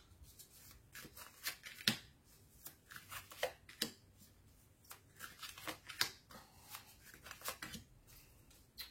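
Tarot cards shuffled by hand for a reading, with quiet, close, irregular bursts of riffling and flicking card snaps, some louder slaps, and no voice over them.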